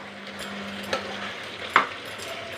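Kadhai chicken simmers with a soft sizzle in a pan as a spoon stirs it, giving two distinct scraping knocks against the metal, close and quiet.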